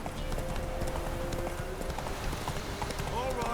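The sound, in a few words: horse Roach galloping, from the video game The Witcher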